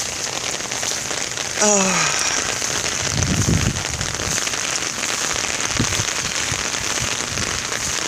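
Heavy rain falls steadily and loudly on a flooded housing development in Kyle, a dense, unbroken hiss throughout. A brief descending whistle cuts in early, and a voice makes a short exclamation.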